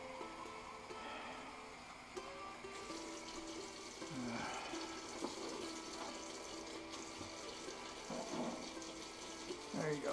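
Water running from a kitchen tap into a measuring cup while bread is being made, a quiet continuous trickle and splash with faint background sounds.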